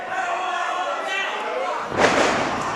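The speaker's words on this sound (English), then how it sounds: "How's that for a pair of body slams for you?" A pair of wrestlers slam opponents to the mat together at a live wrestling show. A single heavy thud breaks through the steady crowd noise and commentary.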